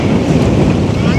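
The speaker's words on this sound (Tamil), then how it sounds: "பாருங்க அடுப்பை பார்க்கவே தெரியும் எப்படி காற்று அடிக்குதுண்டா" Strong wind buffets the microphone outdoors beside a village pond during open-air cooking, a loud continuous roaring rush with no gaps.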